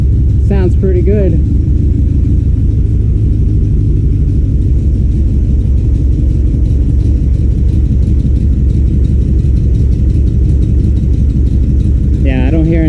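A 1979 C3 Corvette engine with new spark plug wires idles with a steady, deep, loud rumble throughout, and brief bits of talk come at the start and end.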